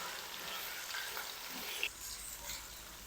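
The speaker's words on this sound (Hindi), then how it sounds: "तो जल्दी से ना मैं 4 से 5 मिनट तक फ्राई कर लूँ प्याज को, प्याज को नरम कर लूँ" Onions being fried in a pan for ridge gourd sabzi, a soft, continuous hiss of frying that stays faint and even throughout, with no talk.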